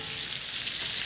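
Chicken cooks on a grill under a weight of bricks, giving a steady, close, hissing sizzle of fat and juices with no pauses and no voices.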